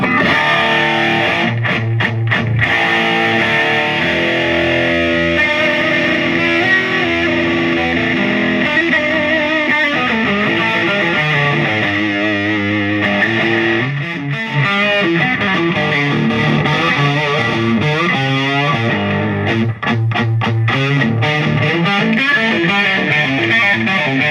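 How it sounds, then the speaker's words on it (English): A heavily saturated, distorted electric guitar through a 1979 Marshall JMP 50-watt tube amp driven into power amp saturation plays loud and sustained, its crunchy tone compressed and thick throughout with no voices. "What you're hearing is more power amp saturation now."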